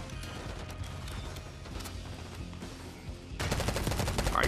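Enemy gunfire in Call of Duty Black Ops 6, with scattered shots at first, then a dense rapid automatic burst that grows louder and closer near the end.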